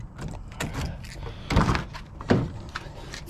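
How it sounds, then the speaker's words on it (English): Driver's door of a Honda Civic Si opened after months unused: a few mechanical clunks and thunks of the latch and hinge, two heavier knocks standing out, close and moderately loud amid light rustling. "It's the first time I've opened this door."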